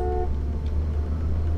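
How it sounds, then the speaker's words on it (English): A car horn sounds in the Call of Cthulhu video game: a short, clear honk at the very start, then steady low vehicle rumble. "Who's honking?"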